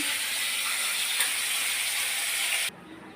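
A pressure cooker on a kitchen stove, cooking mung dal, lets out a loud, steady hiss of steam for nearly three seconds, then cuts off abruptly into quiet room tone.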